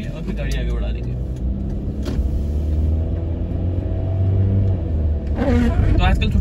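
A car pulls away after halting at a stop sign. Its engine rumbles steadily and builds slightly as it moves off, close and fairly loud, with a few brief clicks and knocks. Someone talks over it.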